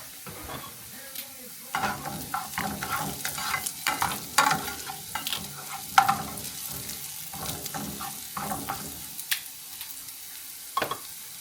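Onions sizzle softly in a pan while a utensil stirs and scrapes them in irregular bursts, close and fairly quiet, with no speech.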